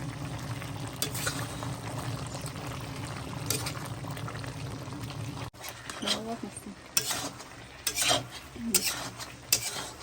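Chicken curry with tomato puree and water is stirred in a pan: a steady close-up scraping, simmering wash gives way to irregular clinks and scrapes of the spoon against the pan.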